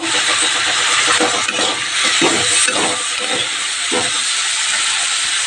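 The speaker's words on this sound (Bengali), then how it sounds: "এই দেখো বরবটি ভাজা হচ্ছে।" Yardlong beans fry in a pan with a loud, steady hiss that fills the whole stretch, broken by a few low clatters from the pan.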